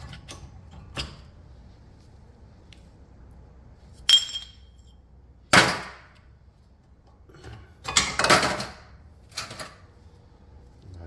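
Worn rear brake pads on a 2015 Mazda 3 are levered out with a screwdriver: scattered metallic clinks and scrapes, several sharp louder knocks, and a short grinding rattle over a quiet background.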